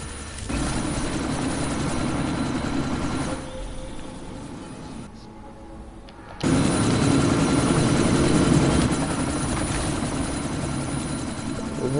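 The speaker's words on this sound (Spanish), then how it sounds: "El helicóptero de mierda este." A helicopter in the Deus Ex video game roars with a continuous loud rotor and engine drone. It dips briefly in the middle, then returns at full strength, with no talk over it.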